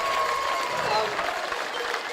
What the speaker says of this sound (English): can we get a round of applause for the whole squad reserves as well?